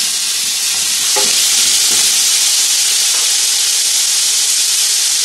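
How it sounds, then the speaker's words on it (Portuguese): Dried beef (carne seca) frying in a pan of pork and beef fat, a loud, steady broad sizzle with a few faint stirring clicks and no talking. "Vou estar colocando aqui a carne seca para fritar um pouco."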